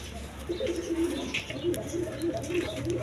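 A pair of German Beauty pigeons coos in a repeated low, rolling rhythm, close and fairly steady over faint background noise.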